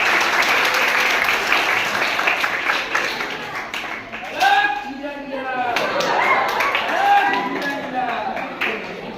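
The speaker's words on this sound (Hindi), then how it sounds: "उनका जोरदार तालियों के साथ स्वागत" Clapping from a village audience greeting a fake miracle baba in a school science-day skit, moderate applause that thins and swells, with voices calling out over it partway through.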